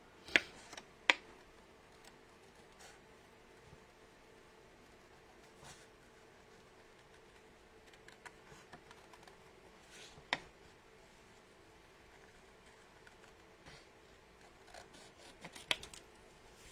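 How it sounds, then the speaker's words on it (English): Scissors trim around stamped paper in a quiet room, with sparse, faint snips and paper rustles scattered over about seventeen seconds and a few sharper clicks near the start and end. "We're going to go back to good old-fashioned scissors."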